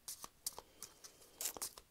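Playing cards shuffled by hand, giving several short, crisp papery riffles and snaps in uneven bursts, close and fairly quiet, with no talking.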